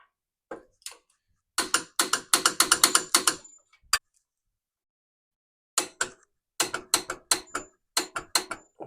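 Torque wrench ratcheting on motorcycle handlebar bolts on a Harley, two loud close runs of rapid ratchet clicks separated by a pause, crisp and isolated with no talk.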